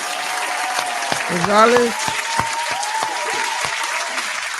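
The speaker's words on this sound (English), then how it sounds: "I'm gonna clap for that." A few sharp, spaced hand claps from podcast hosts sound close to the microphone over a quiet background, while a voice speaks briefly in the middle.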